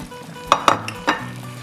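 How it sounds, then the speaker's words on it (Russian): Chocolate and butter melt in a bowl over a water bath, with a few light clinks and taps of a utensil against the bowl over a soft background hum. "На водяной бане топлю шоколад. К нему также отправлю сливочное масло."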